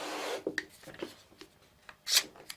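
A Bessey GearKlamp clamp being loosened with its red release button and pulled apart, giving a few close, scattered plastic clicks and sliding scrapes with a sharper rasp near the end, alone without talk.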